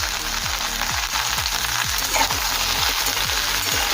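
Large sliced onion frying with okra and potato in a pan, a steady close hiss of sizzling oil with soft low thuds running underneath.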